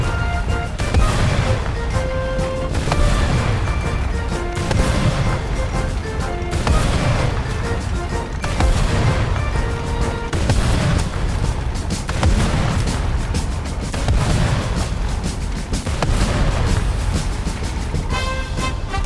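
Calliope M8 rocket launcher firing in a video game as rockets strike and explode on German tanks, with a steady run of booming blasts and crashes over a constant rumbling bed, loud and dense with no talk.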